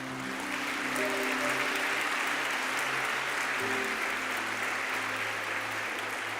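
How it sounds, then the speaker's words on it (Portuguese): Steady applause with a broad, even wash of clapping runs throughout, over sustained musical tones in the background. "Celebre, aplauda."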